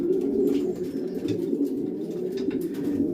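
Spare cock racing pigeons sit together in a loft cage and coo steadily, low repeated burbling calls that overlap close by with no talk.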